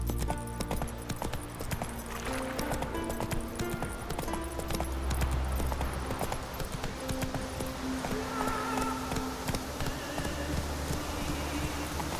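A horse gallops in The Witcher 3 video game, its hooves pounding in a rapid, steady rhythm that holds throughout, with occasional snorts and game music underneath.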